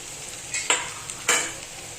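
Potatoes with onion and turmeric sizzle steadily in a hot pan, broken by two or three sharp scraping stirs of a spatula.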